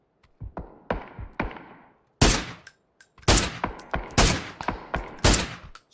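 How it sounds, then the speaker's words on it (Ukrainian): A series of sharp, distant video game gunshots, sparse at first then in quick bursts, with a crisp crack and a short echoing tail; no talking. "Десь далеко хтось стріляє."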